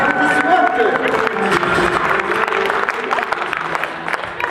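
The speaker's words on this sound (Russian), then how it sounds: "Аплодисменты." An audience claps for a guest being introduced at a comic Women's Day party, a dense patter of applause that runs throughout with talk over it.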